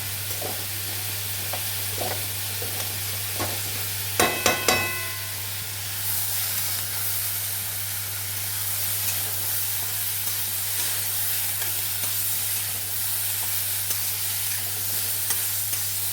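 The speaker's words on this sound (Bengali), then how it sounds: "একটু সময় নিয়ে করলে পরে ডালগুলো সুন্দর ভাজা হয়ে যাবে আর ঘিটার যেটুকুনি কাঁচা ভাগ থাকে সেটাও পরিপূর্ণভাবে হয়ে যাবে" Moong dal frying in ghee over a low gas flame for winter khichuri, a steady soft sizzle with scraping stirs and a brief cluster of sharp metallic clinks near the start, under a constant low hum.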